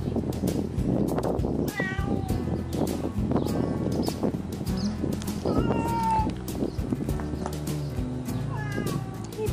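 Stray cats on Ainoshima island in Japan meow repeatedly at moderate volume against a busy, cluttered background with some faint voices.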